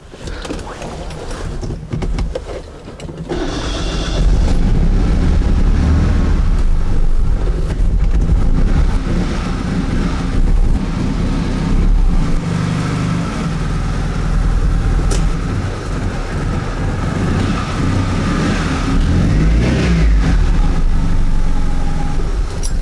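A small Honda engine runs steadily, a loud, close mechanical drone with rough low rumble that stays constant for the duration, mixed with some wind noise.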